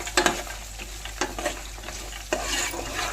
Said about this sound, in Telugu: ఉల్లిపాయ ముక్కలు వేసుకొని ఫ్రై చేసుకోవాలి